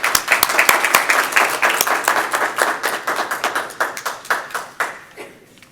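A small group applauding at a council meeting, distinct individual claps in a quick rhythm that gradually thin out and fade over several seconds.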